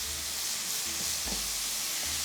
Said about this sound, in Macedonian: Сега она ќе се пржи